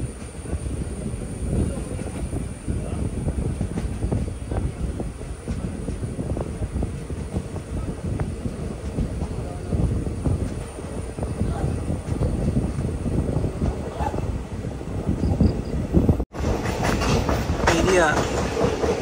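A passenger train on the Guruvayur–Ernakulam line, ridden in a general-class coach while nearing Aluva station, gives off a steady rumbling roar with dense wheel clatter. The sound is continuous and close, with a brief dropout near the end.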